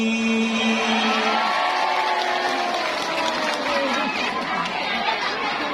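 Audience at a mosque sermon at Masjid Jami Al-Hidayah, Tamansari, giving steady, dense applause mixed with crowd chatter and murmuring, with voices talking through the noise.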